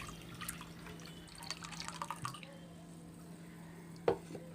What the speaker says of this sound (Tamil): இப்போ புளியிலேருந்து புளி தண்ணி வந்து எடுக்கிறேன்